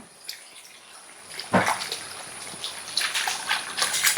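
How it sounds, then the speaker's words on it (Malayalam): Milk poured into a pan for semiya payasam: a quiet start, then a sudden splash and a continuous trickling, gurgling stream of liquid that keeps flowing to the end. "പാൽ ഒഴിക്കാണ്"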